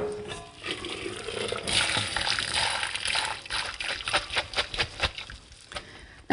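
Pasta water for a vongola dish pours out through a strainer in a kitchen, a splashing rush followed by uneven patters and dribbles as the flow breaks up near the end.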